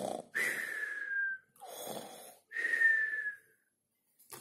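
A storyteller imitates the Gruffalo's daughter's father snoring, giving three drawn-out, whistling snores separated by short pauses, close and fairly soft.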